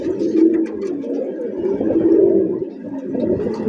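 Domestic pigeons on a pigeon farm coo steadily and close by, their low, throaty, overlapping calls rolling on without pause.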